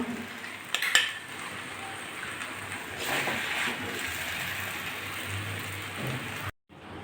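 Fried kochur loti with potato, onion, garlic and green chilli being plated, with a few utensil clinks and scrapes against a dish over a steady hiss, ending abruptly, no talking.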